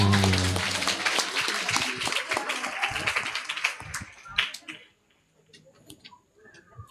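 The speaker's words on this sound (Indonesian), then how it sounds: "Ya, tepuk tangan semuanya." Audience clapping at a school report-card ceremony, brisk applause mixed with voices that thins out and stops halfway, leaving a quiet hall with a faint tone.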